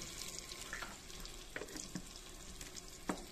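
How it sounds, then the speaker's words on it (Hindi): Chopped onions and cumin seeds fry in a pan in a home kitchen, a faint steady sizzle broken by a few soft clinks of the stirring spoon, with no talk over it. "देख सकते हो कि हमारी प्याज भून गई है"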